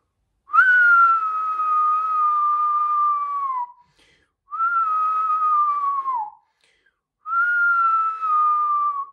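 Someone whistles three long, clear notes, each gliding slightly downward, separated by short pauses, close and fairly loud with no talking.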